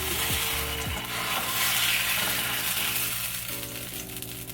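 Tortillas fry crisp in a pan for low-carb enchiladas, a constant close sizzle with occasional scraping and rubbing sounds from handling, loud and unbroken throughout.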